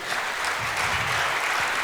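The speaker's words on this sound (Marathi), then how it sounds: "एकदा या सगळ्या कलाकारांसाठी टाळ्या होऊन जाऊ द्या." An audience claps for the artists at a dance troupe's stage event, dense and steady applause filling the whole moment with no voices on top.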